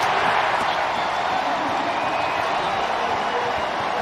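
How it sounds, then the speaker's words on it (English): Home opener crowd at the Cincinnati Bengals stadium against the Jacksonville Jaguars, a loud, continuous roar of thousands of fans filling the space without letup, with faint voices under it. "If you can hear the crowd noise here"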